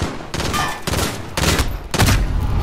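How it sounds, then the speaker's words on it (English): M4A1 rifle bursts in Modern Warfare, four rapid volleys of loud close gunfire separated by brief pauses. "this is the M4A1"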